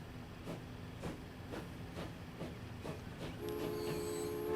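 Simulated train rolling along in Transport Fever 2, a steady low rumble with regular rhythmic clacks about every half second, then a rising tonal whine joining in near the end, all without talk.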